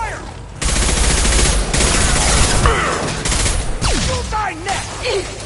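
Gunfire in the Mass Effect Legendary Edition video game on PS5: dense, sustained bursts of shots and a loud fusillade with whooshing and zipping effects, running almost continuously with short lulls.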